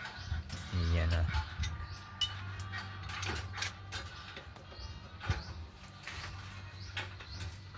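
Truck axle bolts being loosened during a brake lining change, with metallic ratcheting clicks and clanks from the wrench and someone talking throughout.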